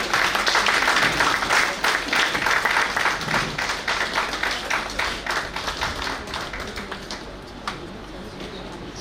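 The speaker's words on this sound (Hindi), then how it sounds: "जोरदार तालियां बजाएंगे आप लोग।" Audience applause at an awards ceremony for a ghazal festival in Delhi, a dense, steady clatter of many hands clapping throughout, loud at first and easing slightly toward the end.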